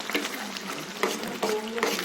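Egg masala curry being stirred in a pan, with ground spice paste mixed in, gives soft scraping and wet shuffling sounds in repeated strokes alongside a quiet, steady sizzle, close and fairly low in level.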